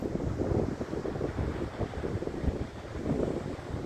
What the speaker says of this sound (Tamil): காற்று பயங்கர காற்று.